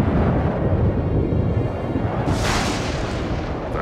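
Rumbling thunder from an approaching storm in an animated horse cartoon, a deep, continuous roll that stays heavy throughout, with a brighter crackling burst partway through.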